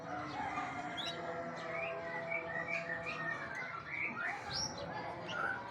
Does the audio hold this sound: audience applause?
no